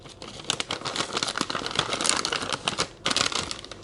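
A plastic packet of intravenous saline crinkles and rustles as it is handled up close, with dense, irregular crackling and a short pause before it resumes.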